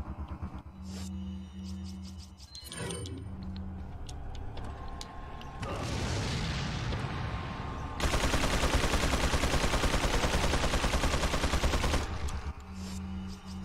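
Gunfire from a zombie enemy in the Resident Evil 4 video game, with bursts of shots and mechanical clatter building to a sustained, loud rapid barrage before game ambience returns.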